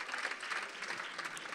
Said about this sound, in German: Ja, können Sie klatschen?